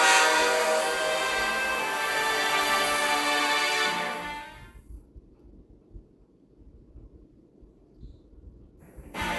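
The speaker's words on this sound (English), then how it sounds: "Our train is departing." A holiday express train departs in the Cookie Run Kingdom video game, a loud sustained whistle-like horn blast that cuts off, leaving a low rumbling rail noise underneath.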